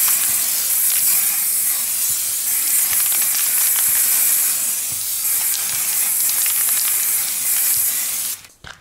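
An aerosol spray paint can hisses steadily while coating the wheel rims of a VAZ 2105, a close, continuous spray running for about eight seconds before it cuts off abruptly.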